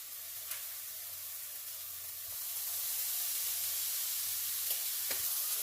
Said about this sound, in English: in the last 30 seconds of frying this burger